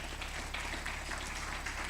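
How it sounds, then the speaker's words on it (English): Audience applause at a business series event, a steady wash of many hands clapping at moderate distance, fairly quiet and continuous through the short span with no talk over it. "Please, can you give them a round of applause?"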